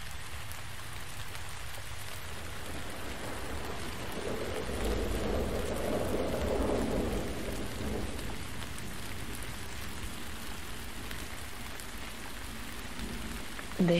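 Steady rain pours down in a bamboo forest, with a low rumble of thunder swelling in the middle and then fading back into the constant downpour.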